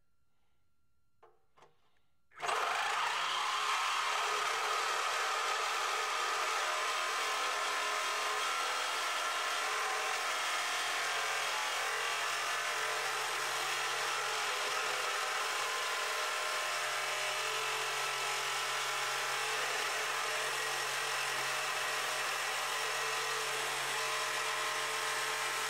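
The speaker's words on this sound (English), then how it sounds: "Note that we have the same type of blade, but brand new, located in the Sawzall." After a short quiet moment, a Sawzall reciprocating saw with a new blade roars to life and saws steadily through the aftermarket bumper beam of a 2008 Ford Focus, a loud, even, continuous buzz for more than twenty seconds.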